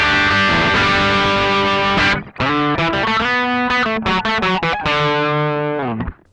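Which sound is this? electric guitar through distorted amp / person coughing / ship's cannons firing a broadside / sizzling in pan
electric guitar through distorted amp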